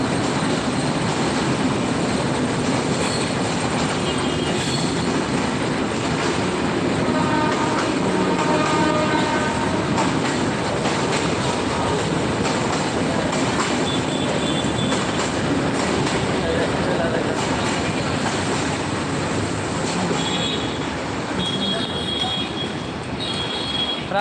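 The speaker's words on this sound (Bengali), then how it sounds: "ট্রেনের শব্দ কিন্তু অসাধারণ লাগে" A train rumbles past for a long stretch through Dhaka at night, wheels clattering and squealing, with horn blasts sounding loud and near over the continuous roar.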